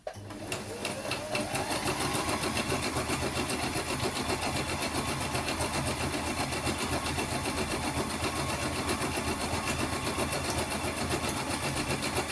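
Sewing machine running a zigzag stitch for free motion embroidery, a fast continuous mechanical whir with rapid even needle ticking, close and loud, starting just after the opening second and holding steady throughout.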